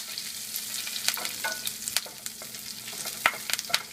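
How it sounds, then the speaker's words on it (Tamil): Green chillies and curry leaves fry lightly in hot oil, giving a steady close sizzle broken by sharp scraping clicks from a stirring spoon against the pan, with no voices. "பச்சை மிளகா, கொஞ்சம் கருவேப்பிலை போட்டு லைட்டாக அதை ஃப்ரை பண்ணிடலாம்."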